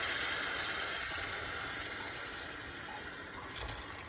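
Hot boiled water is poured from a cup onto Gobindobhog rice in a pot for Bengali-style vegetable pulao, a steady close gushing hiss that eases slightly toward the end.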